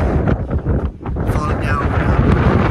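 Heavy wind buffets the microphone in loud, gusty bursts during a bike ride, with muffled rushing and rumbling throughout.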